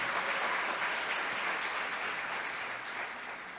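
A church congregation at a Punta de Tralca gathering applauds: dense, steady clapping from a large crowd, heard alone and tapering slightly toward the end.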